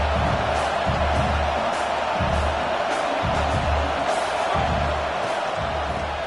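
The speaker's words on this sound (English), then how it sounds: "Here comes 2nd down, and this crowd is turning it up a notch." Football stadium crowd roaring steadily and growing louder ahead of a second-down play, a dense wall of cheering and whoops with low rhythmic swells pulsing beneath, loud and continuous.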